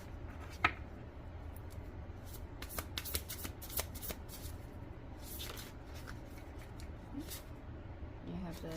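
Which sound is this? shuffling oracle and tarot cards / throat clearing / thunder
shuffling oracle and tarot cards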